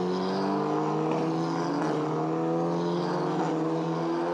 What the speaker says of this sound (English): So on the formation lap, the field form up down the back straight.